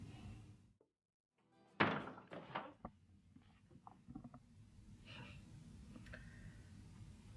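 A door swings shut with one solid thunk, followed by a few lighter knocks and soft shuffling, close by in a quiet room.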